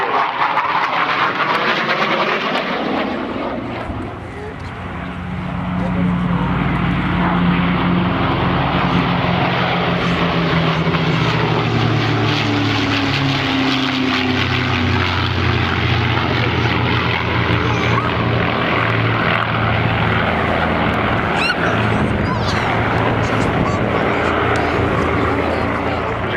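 Loud propeller aircraft engine drone at an air show, a plane sweeping past with a shifting pitch that swells and holds for most of the stretch, a public-address voice faintly mixed underneath.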